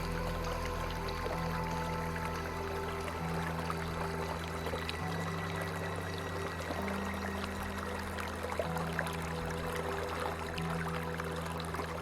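Flowing water in the video game Caligo, a continuous soft pouring stream under a low, steady ambient drone of layered tones, with no voice.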